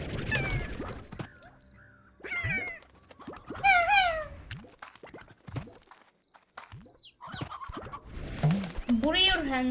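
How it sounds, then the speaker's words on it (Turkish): A chicken in a video game clucks and squawks in repeated short, pitched calls, with faint background sounds between them. "Bak bu da değişik bir tavuk türüymüş."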